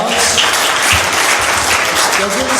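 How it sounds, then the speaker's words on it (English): Audience applause following a tech pitch at a startup competition, a dense, steady wash of many hands clapping close and loud throughout, with faint voices mixed in near the end. "Round of applause."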